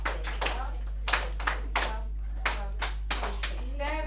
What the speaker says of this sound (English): Let's all clap that together.